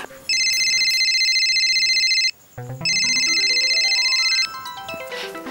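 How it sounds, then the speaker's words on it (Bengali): A phone ringtone plays loudly and close, a repeating electronic melodic tone in two long bursts separated by a short gap, followed by a descending chime-like musical phrase. "রিংটোনটা শুনতে হবে"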